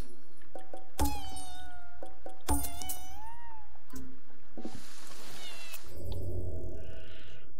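A cat in the video game Ghostwire Tokyo meows loudly several times in short bursts, followed by rushing, watery game effects and a softer trailing tone.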